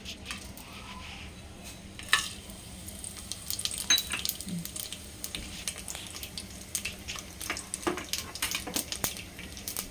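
Whole spices such as cumin, cloves, pepper, cinnamon and bay leaf crackle and sizzle quietly in hot oil, with scattered sharp pops and occasional clinks of a utensil stirring the pan.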